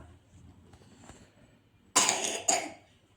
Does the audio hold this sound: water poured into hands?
no